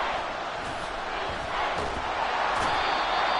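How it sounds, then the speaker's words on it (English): A stadium crowd in Madden NFL 24 roars loudly and continuously after a sack on third and long, a dense, sustained wall of cheering with scattered thumps beneath. "This crowd turning up the decibel level."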